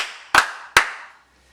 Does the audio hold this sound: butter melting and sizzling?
no